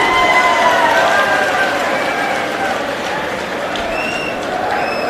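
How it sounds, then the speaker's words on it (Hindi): Loud, dense crowd applause at an Aam Aadmi Party political rally in Bhiwani, Haryana, a continuous roar of clapping from a large outdoor audience with faint whistles and tones running through it. "इनके लिए एक बार जोरदार तालियों में अपना सारा प्यार दिखा दीजिए"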